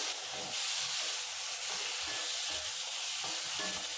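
Tomatoes and onions sautéing in a pan for chicken curry, a steady close sizzle with soft stirring scrapes throughout, no voices.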